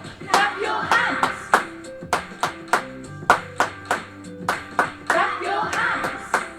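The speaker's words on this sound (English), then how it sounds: "Clap your hands." Children clap their hands together in a steady pulse, about a dozen sharp claps at an even tempo, with singing and a piano accompaniment underneath during a year 3 and 4 music lesson.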